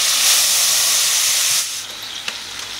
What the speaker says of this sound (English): heat the pan nice and hot and then add